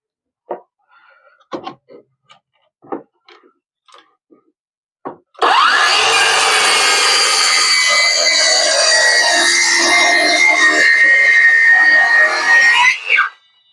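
A 5.5-inch cordless circular saw whines loudly and steadily through inch-and-a-half-thick wood for several seconds, after a few short knocks and taps at the start.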